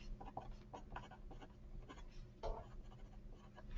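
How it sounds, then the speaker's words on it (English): Pen strokes scratch across paper up close, soft and faint, in short irregular bursts as figures are jotted down. "Write that down."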